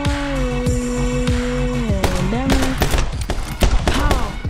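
Gunfire from the video game My Friend Pedro crackles in rapid, close bursts of shots over a game soundtrack, getting denser toward the end.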